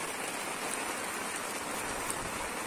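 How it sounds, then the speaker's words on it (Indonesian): Light drizzling rain at the Selorejo reservoir dam around dusk, a steady, dense hiss of fine drops on surfaces that stays even and continuous with no voices. "Magrib masih gerimis bosku."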